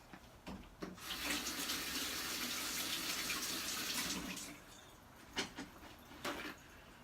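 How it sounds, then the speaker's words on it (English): Water from a tap runs steadily into a sink during hand washing, a continuous hiss lasting several seconds, framed by brief splashes and clunks before and after, with no talk. "let me wash my hands real quick"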